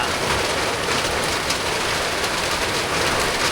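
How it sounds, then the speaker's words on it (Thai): Steady rain falls over farmland during rice-field ploughing season, a dense, even hiss that holds at the same loudness for the whole stretch with no voices. "ช่วงนี้ฝนกำลังตกแห้งช่วงนี้"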